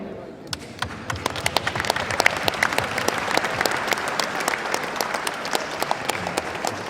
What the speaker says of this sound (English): those warriors at K-Mag deserve a special round of applause.